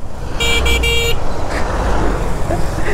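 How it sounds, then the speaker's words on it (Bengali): A CF Moto sports bike sounds its thin, weak horn in three quick toots on a busy road, clear and close over a steady roar of traffic and engine noise. "এত সুন্দর সুন্দর স্পোর্টস বাইকগুলোর মধ্যে এই হর্নগুলো এত দুর্বল হর্ন লাগাই দেয় কেন?"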